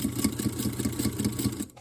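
A sewing machine speed-piecing eight 3-inch quilt blocks for a traditional friendship star runs in a steady, rapid mechanical patter at close range, with regular pulsing stitches before stopping abruptly near the end.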